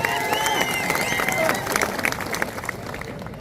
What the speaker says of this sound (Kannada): ಜೋರ ಚಪ್ಪಾಳೆ ಹೊಡಿರೋರು